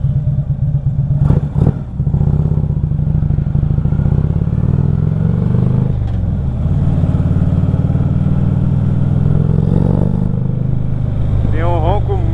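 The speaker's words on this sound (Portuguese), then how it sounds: "Tem um ronco muito bacana e é muito forte realmente esse motor 110" Harley-Davidson Street Glide CVO touring motorcycle with a 110 engine, a deep steady rumbling idle close by with a couple of brief clanks, while someone talks over it throughout.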